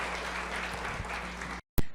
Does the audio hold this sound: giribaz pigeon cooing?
no